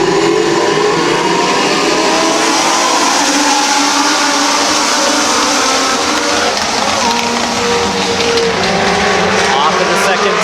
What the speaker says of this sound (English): James Rader and Fred Davis, your front row starters, will bring the field of Legend Cars off of turn number 4 as we go green flag racing